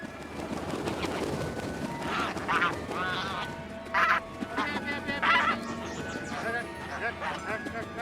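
Impatient domestic geese honking in a flock, repeated nasal calls rising over a busy ambient bed, some close and loud, others overlapping in irregular bursts.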